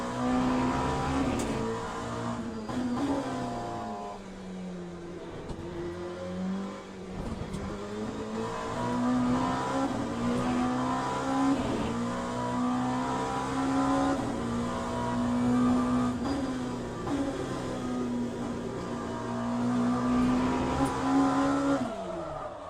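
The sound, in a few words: GTE race car driving at speed, likely sim racing game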